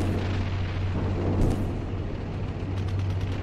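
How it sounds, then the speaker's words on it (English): Mortar rounds impact in the tank simulator Steel Beasts Pro, a deep rumbling blast swelling near the middle over a constant low engine drone, with faint sharp pops trailing afterward. "That's mortars."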